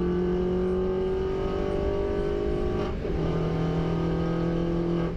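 A Mini Cooper S race car laps Donington Park, its engine holding a steady, close buzzing drone, dipping briefly mid-way at a gear change before pulling hard again.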